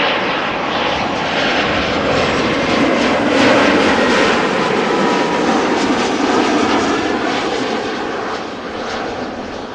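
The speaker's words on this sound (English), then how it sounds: "another quick Embraer 190 arriving from London City" An Embraer 190 jet airliner arriving at Amsterdam Schiphol from London City, a loud, steady broadband engine roar that swells slightly mid-pass and then eases as it goes by.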